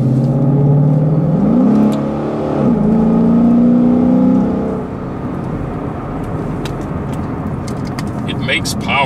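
A 2015–2017 Ford Mustang fitted with a JLT cold air intake revs loudly up close, its engine tone rising and falling twice in steady pulls before settling into a sustained drone.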